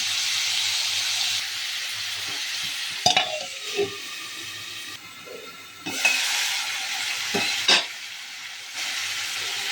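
Mutton and drumstick curry simmers covered in a pan, giving a steady sizzle and hiss, broken by a few sharp clinks of a lid or spoon.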